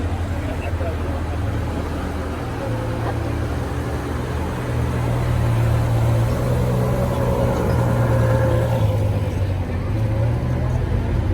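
Porsche sports cars, including Carrera S models, drive past on the streets of Monaco, a steady engine rumble that swells as they pass, with someone talking over it.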